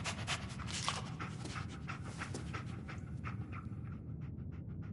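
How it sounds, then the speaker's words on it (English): Close, rapid panting from Dogmeat, the canine companion in Fallout 4, a continuous quick rhythm of soft breaths with no voices. "Dog meat. Get the scent, boy."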